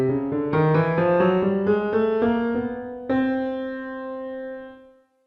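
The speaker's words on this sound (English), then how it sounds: "This is called the chromatic scale" A clean instrument plays a rising chromatic scale of twelve successive pitches starting on C, one note after another in an even rhythm, ending on a sustained note that decays and fades out, with no voices.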